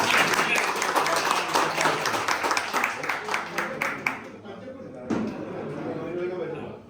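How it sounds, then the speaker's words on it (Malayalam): An audience at a general body meeting breaks into loud applause, dense clapping that thins into scattered individual claps before a short final burst; no speech is heard. "നികേഷ് ഭായിക്ക് നല്ലൊരു കൈയടി കൊടുക്കാം."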